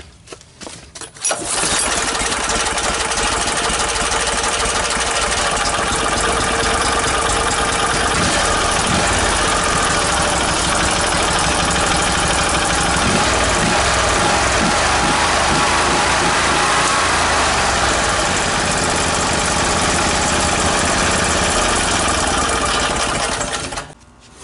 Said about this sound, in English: This is the 16 horsepower V-twin Vanguard.